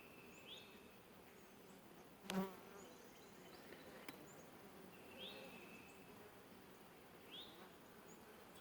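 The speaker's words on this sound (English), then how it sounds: "Plus there's a lot of bees." Honey bees buzzing around an open hive during an inspection: a continuous, close, low hum, with a few faint bird chirps in the background and a brief knock partway through.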